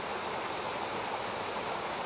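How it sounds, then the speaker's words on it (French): A tall mountain waterfall cascades in a steady, broad rushing roar, constant and unbroken, with no voices. "la très jolie cascade beaucoup plus haute derrière"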